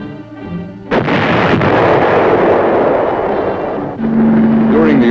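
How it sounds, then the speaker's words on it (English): Tank gunfire along Vietnam War roadways, a loud heavy blast near one second followed by sustained rumbling booms and a second burst near four seconds with a faint engine-like whine, no voices. "Tanks were used to keep the roads open at strategic points, firing to keep the enemy off balance."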